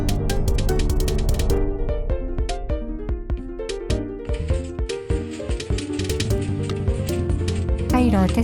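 Minecraft pistons firing in a large four-tier shutter mechanism under test, a dense run of loud mechanical clacks and ratcheting thumps layered over steady background music.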